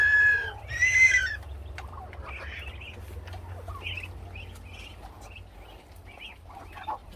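Chickens cluck and a rooster calls near their coop, with ducks kept alongside, a few louder bird calls early on and softer clucks scattered through the rest over a steady low rumble.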